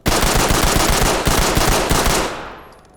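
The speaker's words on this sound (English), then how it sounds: "you can shoot it as fast as you can click" A pistol in the Ready or Not video game fires in a fast, continuous burst of closely spaced shots. The loud stream runs for over two seconds, then fades out in a trailing echo.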